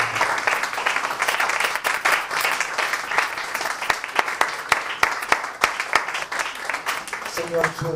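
An evangelical church congregation applauds in sustained rhythmic clapping, a dense crowd of hands heard together with voices speaking and singing over it.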